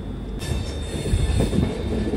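The Devagiri Express passenger train, running from Hyderabad to Mumbai, gives a close, continuous rumble with faint wheel squeal and rail noise, and no voices.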